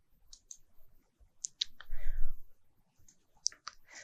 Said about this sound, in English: hold down the Shift key and click